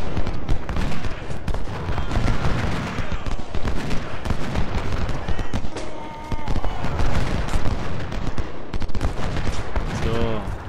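Musket volleys in the Ultimate General: Civil War battle game, a loud, dense crackle of rifle fire rolling continuously throughout, with brief dips and voices blending into the din.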